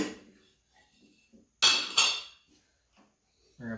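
Metal clanks and scrapes while pulleys are taken off the spindles of a Craftsman lawn mower, with two loud knocks close together mid-way, then softer handling noises and a final thud.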